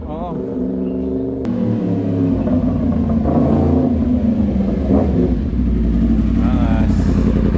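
Yamaha MT-10 liter-class motorcycle engine revving loudly and steadily up close, its rising harmonic whine layered over a deep rumble while people talk over it.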